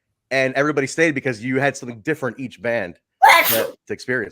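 A person talks, then pauses and lets out a single sharp, close sneeze before talking briefly again.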